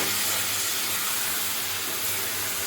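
Water poured into a hot pan of chilli chicken gravy sets off a loud, steady steaming hiss that fills the whole moment without a break, with no voices.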